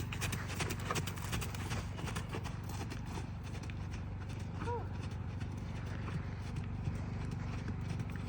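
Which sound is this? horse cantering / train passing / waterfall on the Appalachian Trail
horse cantering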